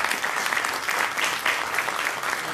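Steady, loud audience applause at a congressional event in Peru, dense clapping sustained from start to finish with no talk over it.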